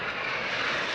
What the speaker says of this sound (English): That's the roar of our jets, the roar of the Rafale, the Jaguars, the MiG-29s and the Sukhoi 30s